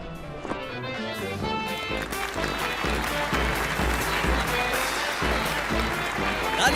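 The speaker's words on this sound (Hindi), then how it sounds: "तालियां बजती रहनी चाहिए।" A theatre audience at a stage show applauds with dense, sustained clapping that builds after the first two seconds and keeps going, under some background voices.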